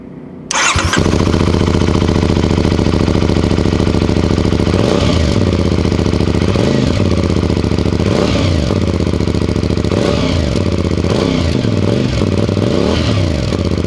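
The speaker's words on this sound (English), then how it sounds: "here is the sound for you to choose whether it's a negative or a positive for your taste" CFMoto CLC 450 Bobber motorcycle starting up close, then settling into a loud, steady idle through its exhaust with several quick throttle blips rising and falling in the second half.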